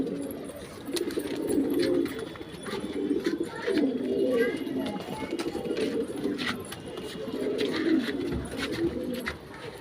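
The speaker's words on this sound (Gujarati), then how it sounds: "બધા પૂરતા કબૂતર આપણા છતે જ બેઠા હે" Pigeons coo in repeated low throaty rounds from a rooftop perch, a steady close flock chorus with faint background noise and brief talk.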